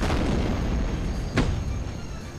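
In the video game Precursors, a grenade goes off as a single sharp blast partway through, rising briefly out of a dense, roaring wash of ongoing game noise.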